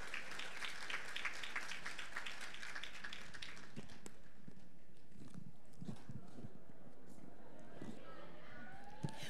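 Guests at a Thai wedding applauding to welcome the bride, a faint, distant burst of clapping for the first few seconds that gives way to quiet room murmur and scattered knocks.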